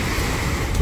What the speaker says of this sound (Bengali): বিচটা এখন অনেক উত্তাল